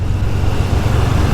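Heavy road traffic crossing a busy bridge in India, a dense continuous low rumble of car and motorbike engines close by, steady and loud throughout without speech.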